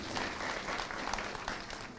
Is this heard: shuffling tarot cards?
no